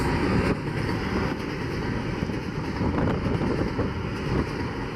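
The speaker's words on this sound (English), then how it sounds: "Looks like a grain train." A grain train rumbles past close by in Eureka, Washington, a steady heavy roar with faint rhythmic clatter, buffeted by wind on the microphone.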